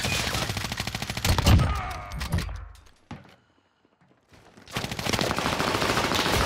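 Heavy continuous automatic gunfire in the shooter game Warzone Pacific, a dense rattling burst that fades to near silence for about a second before another sustained volley erupts, loud and close, with no talking.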